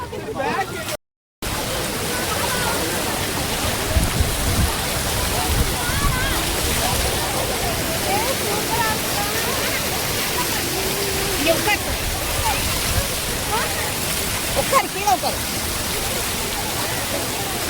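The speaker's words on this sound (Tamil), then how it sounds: "கீழே உட்காந்தாதான் தண்ணி மேல விழுகும்." Waterfall at a family outing near Aliyar, a dense continuous roar of falling water close by, loud and unbroken except for a brief silent gap near the start, with people talking over it.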